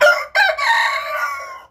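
A hen gives a single loud, drawn-out call, close by and alone, while another hen sits laying an egg.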